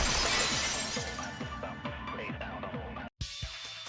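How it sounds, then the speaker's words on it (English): A vase shatters in the video game Danganronpa 2, a sharp crash of breaking ceramic that rings out and scatters into tinkling fragments, followed by a brief silence and a short closing hit. "If it wasn't the window, then what broke to make that sound? A vase."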